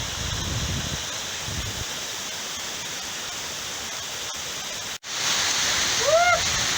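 Constant rushing water roars, broad and steady, from the Prut waterfall below Hoverla in the Ukrainian Carpathians, with brief voices near the start and a short whistle-like call toward the end.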